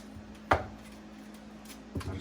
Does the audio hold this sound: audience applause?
no